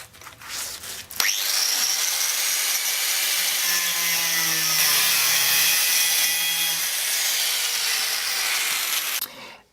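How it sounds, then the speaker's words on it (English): Angle grinder cutting the heads off steel bolts under a Lotus Elan M100 rear bumper, a loud steady high-pitched whine and grinding hiss running for about eight seconds after a brief start, then cutting off. "If you do go at them with an angle grinder"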